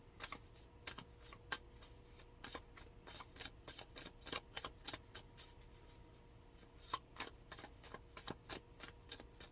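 Tarot cards are shuffled and pulled in a quiet room, giving a close, soft run of crisp riffling snaps and flicks that repeats irregularly.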